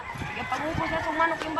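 A chicken clucks in short, rough bursts at a rural farm plot being readied for corn, heard fairly close amid outdoor background noise and with people talking nearby.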